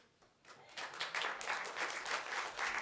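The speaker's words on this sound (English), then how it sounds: "Clapping is okay" Applause from a congregation at a church service swells and holds steady, a dense wash of many hands clapping, moderately distant and fairly soft.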